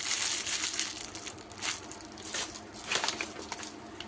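A parcel being opened for an unboxing, heard as crinkling and crushing packaging in close, irregular bursts with no voices.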